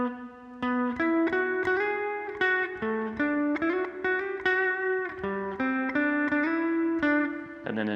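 Clean-tone electric guitar plays the high harmony part of a song, a run of bright picked single notes and short phrases, close and steady with a slight effects sheen.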